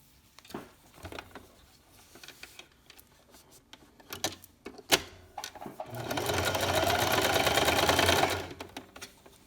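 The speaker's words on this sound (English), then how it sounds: "I am going to go ahead and zigzag that." Home sewing machine stitching a zigzag seam along the edge of a baby sleeper, a few short bursts of stitching followed by a sustained two-second run of rapid mechanical chatter.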